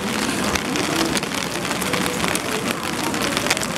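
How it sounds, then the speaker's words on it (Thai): Rain falls steadily on a hard street surface in Myeongdong, Seoul, at night, a dense hiss of drops with faint traffic rumble underneath. "ฝนตกแล้ว"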